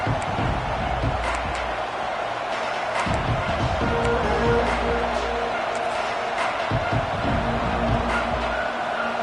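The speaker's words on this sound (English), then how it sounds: "This crowd bringing the energy and noise early." Loud crowd roar filling a large football stadium, steady and continuous with swelling cheers, a commentator's voice faintly under the noise.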